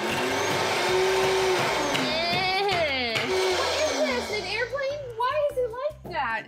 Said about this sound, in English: this is an industrial strength blender